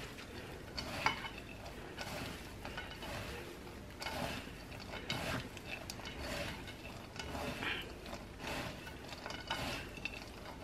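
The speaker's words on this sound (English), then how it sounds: "Now we're just going to mix everything together." Sudanese sandalwood incense ingredients mixed together by hand, giving a steady, close, rustling and crunching of coarse material being worked, with repeated soft scraping strokes throughout and no talking.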